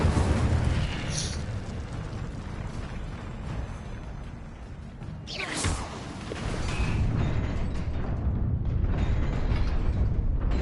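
The Incendio fire spell from the Hogwarts Legacy game erupts as a sudden whooshing burst with a rumbling, crackling tail, over a low mechanical ambience that swells again toward the end.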